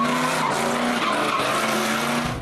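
Car tires screech and squeal as a car spins out, a continuous loud skidding whine over a revving engine, close and sustained throughout.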